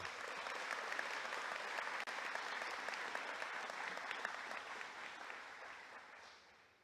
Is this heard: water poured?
no